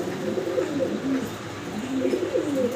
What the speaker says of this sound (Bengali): খুব সুন্দর এক জোড়া গোল্লা কবুতর, রানিং গোল্লা